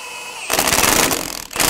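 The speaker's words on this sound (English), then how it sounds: "Using a 17mm wrench, we're going to hold the head of the bolt while using a 17mm socket to snug down the nut" A ratchet with a 17mm socket snugs down the lower strut bolt nut on a 2014-2018 Chevrolet Silverado front suspension, giving a rapid, loud, close clicking burst that briefly stops and then resumes.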